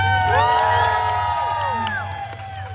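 A small live audience whoops and cheers loudly for a couple of seconds, high shouting voices rising together and then tapering off.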